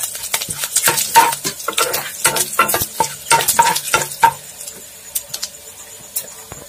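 Panch phoron, red chili and bay leaves frying in hot oil for ghuguni, a crackling sizzle with repeated sharp pops and stirring scrapes close by that thin out toward the end.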